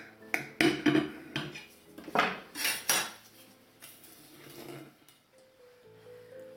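A knife slices through a creamy mascarpone layer cake dusted with powdered sugar, giving several clinks and scrapes of metal against a plate, close and fairly quiet, with a faint tone near the end.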